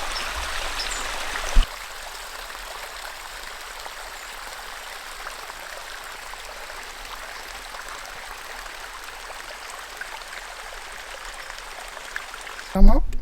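An autumn stream flows and drains over a drop in the woods, giving a steady, moderately close rushing wash with no voices, broken only by a couple of brief knocks at the start and end.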